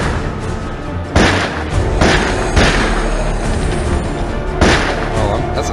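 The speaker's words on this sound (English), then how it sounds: "Oh, that's a drive-by there." A drive-by shooting in the video game Fear The Walking Dead: Dead Run, with loud booming shots landing as several spaced, heavy thuds over a dense, continuous game soundtrack.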